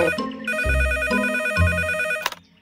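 Cartoon telephone bell ringing in repeated bright trills, loud and close, with a deep thud or music hit underneath and a short clatter before it cuts off.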